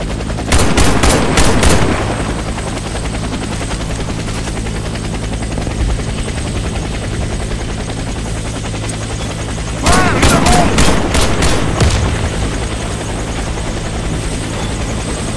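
A helicopter in the video game Warface drones steadily throughout, close and loud, cut by two bursts of rapid gunfire near the start and past the midpoint.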